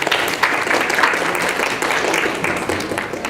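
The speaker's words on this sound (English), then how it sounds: "Let's give them another round of applause." Audience applause at the BanglaRongo 2018 program at Clemson, a steady wash of clapping from a seated crowd that holds evenly for several seconds with no clear voices on top.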